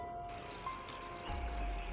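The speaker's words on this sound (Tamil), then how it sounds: "ஏதேதோ பூச்சிகளின் ரீங்காரம், பறவைகளின் சப்தம் மட்டும் கேட்டது." Insects and crickets in a dense forest produce a continuous high-pitched shrill chirring that starts abruptly and holds steady, with a low rumble rising near the end.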